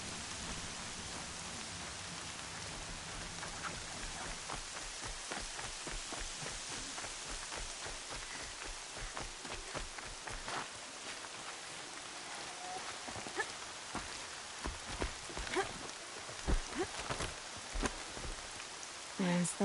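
Steady rain pours down in the video game Horizon Zero Dawn, a dense continuous hiss of drops with scattered sharper spatters and faint rumbles, alone and without talk.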